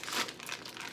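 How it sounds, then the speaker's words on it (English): A brief, close crinkling and rustling of plastic packaging as a brick of cream cheese is opened, a quick run of crackles with no voice over it. "The fun part is trying to figure out how to open the packaging."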